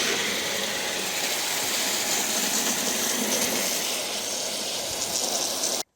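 Water rinses out a beer keg in a loud, steady rushing hiss of spray that holds for several seconds and then cuts off abruptly.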